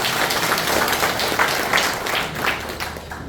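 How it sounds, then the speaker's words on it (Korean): Members at a Democratic Party gathering in Naju break into warm applause for a returning acquaintance, a brief burst of dense clapping from a crowded hall. "반가운께 박수 한번 쳐주십시오."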